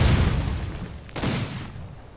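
Explosions in the 1890s Utah setting of the game Outlaws of the Old West: a deep rumbling blast fading away, then a second sharp boom that rolls off into a low rumble, with no talking.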